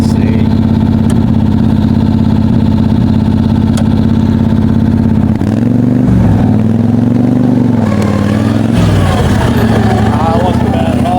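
Wheel Horse B100 garden tractor used as a mud mower, engine running hard in high gear: a loud, steady, close drone that wavers and shifts pitch partway through as the load changes.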